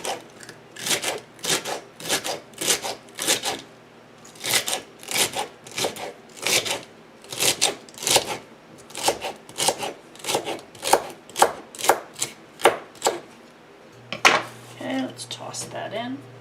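A knife chops food finely on a cutting board in quick rhythmic runs of crisp strikes with brief pauses, close and clear, ending in a scraping sound.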